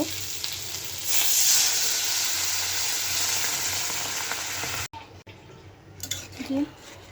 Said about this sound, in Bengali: ঝোলটা দিয়ে দিলাম